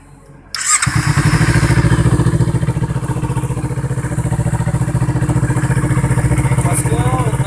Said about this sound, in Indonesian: Motor kita langsung hidupkan.